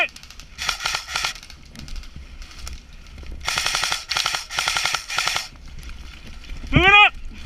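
Airsoft guns fire bursts of rapid cover fire outdoors, several loud clusters of quick snapping shots in succession, with a short shouted voice near the end.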